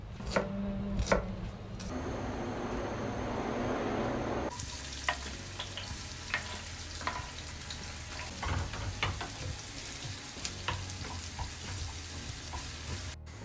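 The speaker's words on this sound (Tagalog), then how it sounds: "Igisa mo lang yung sibuyas sa achiote oil and then lagyan mo ng sugar" Onions sauté in achiote oil, a steady close sizzle that swells after a quieter opening, with scattered clinks and scrapes of stirring throughout and no talking.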